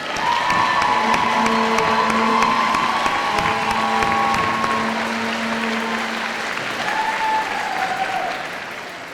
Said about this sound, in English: Let's give another round of applause for all of them.